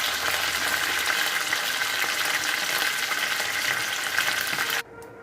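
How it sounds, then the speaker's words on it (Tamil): Curry leaves fry and splutter in hot oil, a loud dense crackling sizzle that runs steadily for several seconds before cutting off abruptly near the end. "கருவேப்பிலை போடும்போது தெரிக்கும்."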